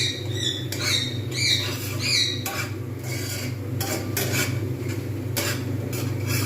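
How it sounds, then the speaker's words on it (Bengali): A spoon scrapes and stirs pea kachori filling in a pan while it cooks down until dry. The scraping comes in irregular bursts, close and clear, over a steady kitchen hum with some high squeaky chirps. "কিন্তু কন্টিনিউ এরকমভাবে নাড়াতে থাকবে, তলায় ধরে যাওয়ার সম্ভাবনা থাকবে"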